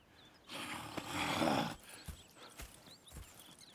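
Horses snort and whinny in a brief loud burst in the video game Red Dead Redemption 2, followed by scattered soft thuds and shuffling hoof sounds.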